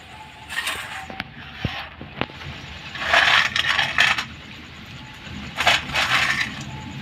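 Sun-dried bori lentil dumplings dropped one by one into a pan of vegetarian papaya curry, a few sharp taps and clatters followed by bursts of soft rattling and scraping, close and moderately loud with no talking.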